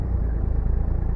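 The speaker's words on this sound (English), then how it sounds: "And how does the engine brake sound?" A 2014 Kenworth T680 truck in American Truck Simulator runs its engine brake, a deep, steady, rapidly pulsing low rumble that stays loud and continuous throughout with no voices over it.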